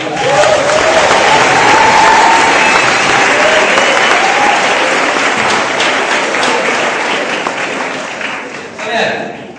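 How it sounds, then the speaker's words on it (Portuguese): A church congregation claps loudly and continuously in praise, with cheering voices mixed in, before the clapping fades and a brief final swell of voices rises near the end. "Só de palmas"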